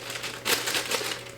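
Dry yellow cake mix spills from its crinkly bag into a bowl, a short, close rustle and hiss of powder and packaging.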